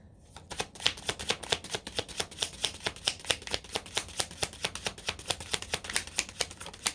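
Cards are shuffled in a rapid, even run of crisp riffling clicks, close by and steady for several seconds.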